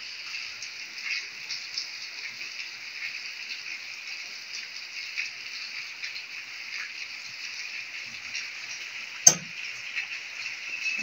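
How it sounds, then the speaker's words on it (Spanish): Steady overnight light rain patters continuously outside a window with a soft hiss and scattered drips, and a single sharp knock stands out near the end. "Toda la noche llovió"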